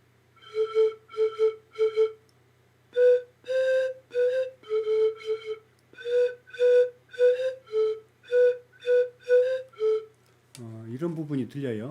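A recorded pan flute plays a melody without tonguing, with a series of breathy notes in short phrases, fairly close and clear, followed by someone speaking at the end.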